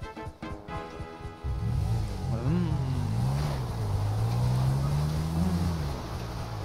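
Motorcycle engine in the GTA 5 video game with a real-life mod, a steady droning idle that rises in pitch as it revs, loud and continuous after a brief start-up.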